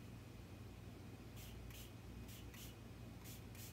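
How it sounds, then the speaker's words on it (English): Spray paint hissing from a can held very close to an iron ball, a few short bursts over a quiet steady background hum. "I'm spraying very close to the iron to get it to move and kind of run down the ball."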